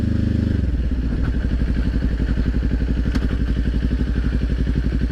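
A Kawasaki Ninja 400 motorcycle being parked close by: the engine drops from a higher rev into a steady, evenly pulsing idle that thumps on for several seconds, with a faint clatter partway through.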